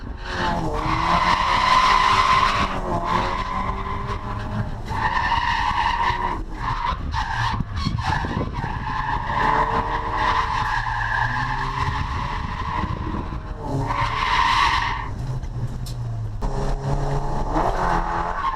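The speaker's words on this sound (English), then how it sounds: "keeping the revs low and getting as much seat time" A car drifts at a track day with long, loud tire squeals and a revving engine, the screeching rising and fading repeatedly over nearly twenty seconds.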